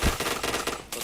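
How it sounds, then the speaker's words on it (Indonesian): Rapid automatic gunfire in the video game Point Blank, a fast dense burst of shots lasting about a second, loud and close. "Tembak Oppo, kalau gak kena ayo main pintar-pintaran aja."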